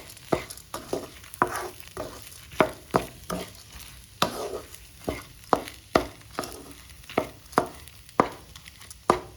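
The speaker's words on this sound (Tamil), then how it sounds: "அதுக்குள்ளே இப்போ இங்கே இதை வந்து ஃப்ரை பண்ணிவிட்டு இப்போ இதில் வந்து அந்த ஸ்டாக் ஊற்றுப்பேன்." Food frying in a pan before stock is poured in, with repeated sharp stirring or scraping strokes in an uneven rhythm over a steady low sizzle. The sound is close by and there is no talk.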